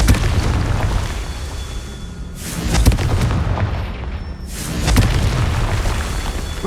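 In the video game Hogwarts Legacy, the Confringo spell sets off booming explosions, with two loud blasts a couple of seconds apart, each trailing a hissing rumble, over a low continuous game ambience.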